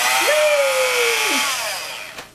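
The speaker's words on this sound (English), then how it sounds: "I've got my little hand mixer." Almost fifty-year-old small electric hand mixer whirring loudly and close, a steady high motor whine with a brief pitch rise and fall as it speeds up and settles, then winding down at the end.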